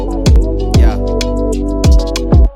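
A guitar plays sustained tones with a few sharp, loud plucked accents spaced across the phrase, ringing out alone without voices.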